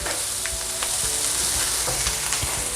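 Steady, loud sizzling of Singapore noodles with shrimp stir-frying in a hot pan, with occasional scrapes and clinks of stirring throughout.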